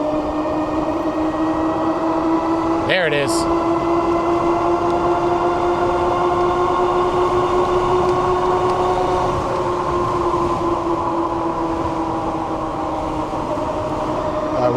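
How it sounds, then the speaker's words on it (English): Steady electric hub motor whine of a Diton Tank300 ebike at speed, a loud sustained tonal hum with wind noise throughout and a brief sharp knock near the start, with a short spoken remark. "Do you hear that motor?"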